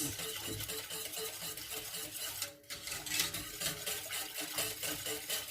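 Béchamel sauce for a cauliflower and potato gratin being stirred in a pot, a steady close scraping and swishing that runs continuously with only a brief pause.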